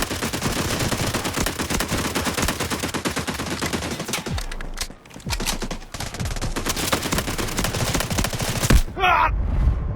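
Bizon submachine gun firing in the mobile shooter Delta Force Mobile, long rapid automatic bursts rattling loudly and almost continuously, with a brief pause and a few heavier blasts near the end.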